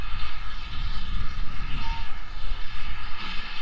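A Spitfire aircraft passes overhead with a loud, continuous propeller-engine drone that swells and eases slightly as it flies by, heard near a heritage railway.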